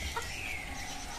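A chicken clucks a few times close by over a steady noisy background, brief and fairly quiet, with no talking.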